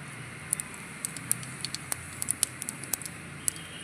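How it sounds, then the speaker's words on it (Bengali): Cumin seeds temper in leftover fish-frying oil, crackling with scattered small pops and sputters over a soft, low sizzle, faint and irregular. "এই মাছ ভাজার তেলের মধ্যে কিছুটা জিরে ফোড়ন দিয়ে দেবো"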